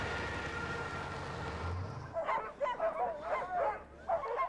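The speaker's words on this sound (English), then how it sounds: "You can pet these dogs," Sled dogs at a national park in Alaska barking in a run of repeated, moderately close yaps and woofs, following a low, rumbling vehicle background that fades out.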